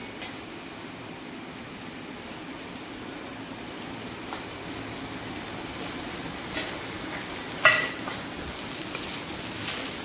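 Gobindobhog rice being stir-fried with grated coconut and ghee in a pan, a soft, steady low sizzle with a few light scraping and clinking stirs.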